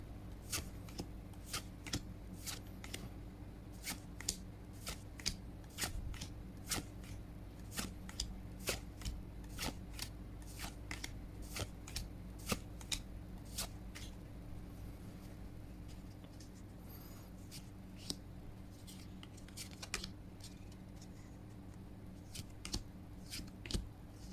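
Cards from Magic: The Gathering Battle for Baldur's Gate Commander theme decks being handled and flipped through, with a steady run of crisp, close card snaps and flicks over a low background hum and no talking.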